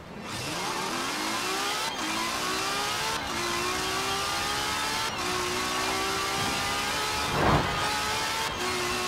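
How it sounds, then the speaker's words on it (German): A 2017 Ferrari 812 Superfast in Forza Horizon 4, its engine revving and climbing steadily through the gears with brief dips at the shifts, loud and close, plus a short thud near the end. "Ich habe mich für den Ferrari 812 Superfast von 2017 entschieden."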